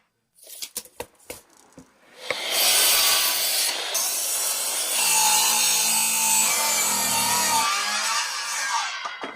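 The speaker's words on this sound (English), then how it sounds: "Let's cut them all at 60 with our Makita circular saw" Makita circular saw cutting wood at a 60-degree angle: a few knocks as the board is set, then the blade spins up and whines loudly through the cut for several seconds before slowing, close up.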